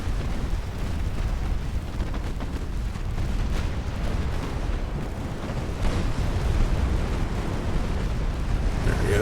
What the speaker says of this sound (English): Somebody's firing at us somewhere.